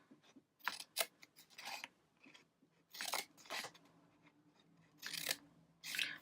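Scissors snip through paper pieces for a twisted gift box: close, crisp cuts in short clustered bursts separated by brief pauses, with no talking.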